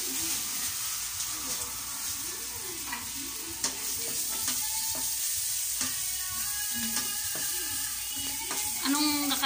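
Sisig made with ground pork sizzles loudly and steadily on a hot plate while it is stirred, with utensil scrapes and clinks over the constant frying hiss and brief voices in the background.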